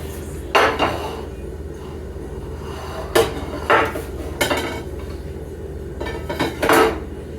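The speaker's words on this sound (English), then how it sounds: "The bowl fell and came coming apart." A bowl falling and coming apart in a kitchen while a gluten-free Victoria sponge cake is finished, a few sharp clattering knocks of crockery at irregular intervals, close and loud against a quiet room.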